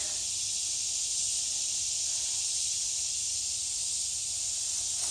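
Insects buzz outdoors at a trail-camera spot in a continuous high, hissing drone that stays constant throughout.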